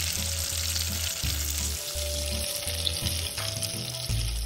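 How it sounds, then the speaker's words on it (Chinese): Shrimp and potato croquettes deep-frying in hot oil, giving a steady, close crackling sizzle over a low hum, with no talking. "油炸至这状态就能离火"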